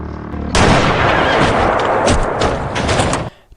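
Gunshots in the Korean western film The Good The Bad The Weird, fired across a desert at a man on a motorbike: a loud, close burst of shots and booming echoes that holds for about three seconds, then cuts off abruptly.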